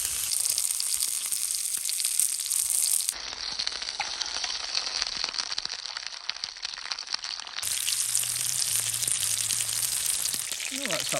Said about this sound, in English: You can hear that sizzling. It's a wee frying pan specially built for one burger.